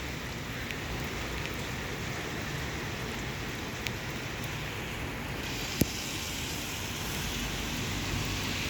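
Steady rain falls in Riyadh, a soft even hiss on surfaces with a few faint drips and taps, continuous and moderately quiet throughout.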